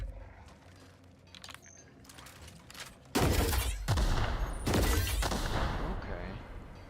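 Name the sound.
plasma launcher firing in The Outer Worlds video game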